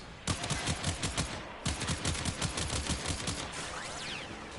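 Automatic gunfire in Warframe, heard as two quick, evenly spaced bursts of rapid shots, fairly loud and close, followed by a fading tail.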